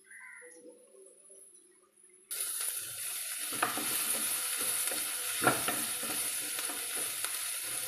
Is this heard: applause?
no